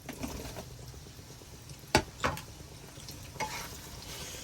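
Pork stirred in a hot pan for dinuguan, a soft steady sizzle with a few sharp scraping clacks of the utensil against the pan, close and fairly quiet, with no talk.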